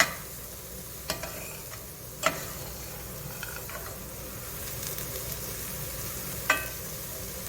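Food cooks in a pan with a steady, soft sizzle, broken by a few sharp taps and scrapes as it is stirred, close up and with no one talking.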